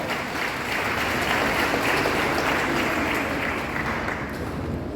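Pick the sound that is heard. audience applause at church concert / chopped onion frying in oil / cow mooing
audience applause at church concert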